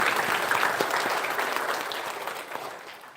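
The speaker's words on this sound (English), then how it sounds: "A big round of applause for Rachna." Conference audience applauding a speaker, steady dense clapping from a sizable crowd throughout, fairly loud and gradually tapering toward the end.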